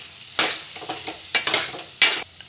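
Summer squash curry with garam masala gets stirred in a pan, with three or four distinct scraping strokes over a soft sizzle, close and fairly loud.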